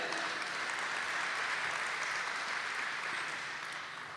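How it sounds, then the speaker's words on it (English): Audience at a maternity fundraising gala applauds during a keynote address, a sustained even wash of many hands clapping at moderate distance, fading slightly near the end. "You can clap for that."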